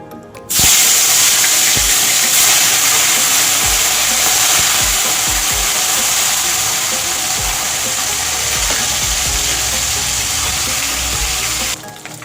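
Parshe fish dropped into hot mustard oil burst into a loud, steady sizzle that starts abruptly and roars on without pause, close and unbroken.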